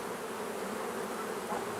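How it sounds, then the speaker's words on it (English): Honeybees in a crowded hive box make a steady, dense buzzing drone, close and continuous throughout without any voices. "When the box is this congested with bees"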